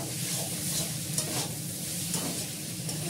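Chilies sizzle in a hot pan during chow mein cooking, a soft, steady frying hiss with faint stirring scrapes, quiet and close.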